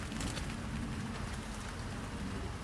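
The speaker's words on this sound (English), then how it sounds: "It might be it's actually raining right now, so that's no good." Steady rain falls continuously, a dense even hiss of drops on surfaces outdoors with no breaks and no voices.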